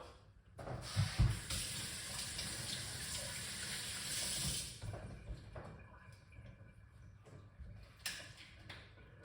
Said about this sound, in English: we're gonna add some coconut water to it